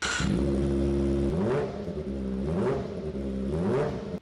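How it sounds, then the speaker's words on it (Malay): A Kawasaki ZX25R 250cc motorcycle with an aftermarket exhaust revs hard and close, the engine note climbing and dropping in repeated throttle blips with a raspy, high-pitched roar. "Orang katakan motor 250cc tapi bunyi dia macam sport bike 1000cc"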